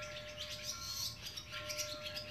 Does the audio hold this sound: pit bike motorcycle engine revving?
no